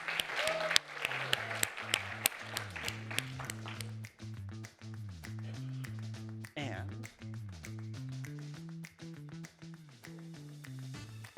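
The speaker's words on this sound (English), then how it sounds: "let's give another round of applause for our 8 fantastic" Audience applause for eight speakers at a university graduate research talk competition final, a burst of clapping at the start that fades under steady instrumental music with low sustained tones.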